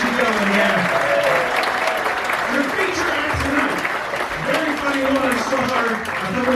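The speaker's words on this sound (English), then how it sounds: "Give yourselves a round of applause" A comedy club audience at Governor's Comedy Club claps and cheers steadily, a full roomful of applause with a voice talking over it.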